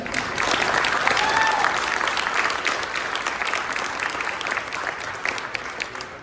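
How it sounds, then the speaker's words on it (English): Audience at an aviation gala dinner applauds for Willie Turner, a steady, full round of clapping from many hands that carries on without a break for several seconds. "Once again, a round of applause for Willie Turner."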